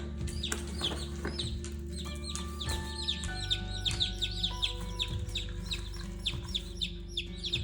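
Newborn chicks peeping in a brooder, many high chirps overlapping in a busy continuous chorus over a steady low hum, close by and with no talking.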